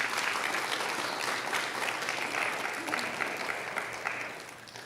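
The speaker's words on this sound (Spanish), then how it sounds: "Dale un fuerte aplauso al Señor." Sustained applause from a church congregation, a dense steady clatter of clapping that holds at full strength before tapering slightly at the end.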